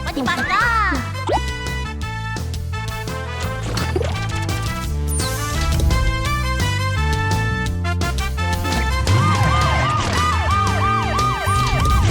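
A cartoon police car siren warbles repeatedly through a busy animated children's cartoon soundtrack, loud and continuous under music and sound effects, with a voice speaking at moments.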